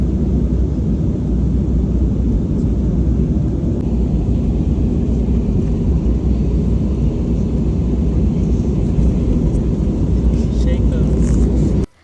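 An airplane landing, heard from the cabin as a loud, continuous low roar and rumble that stays steady until it cuts off abruptly at the very end.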